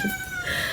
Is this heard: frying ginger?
no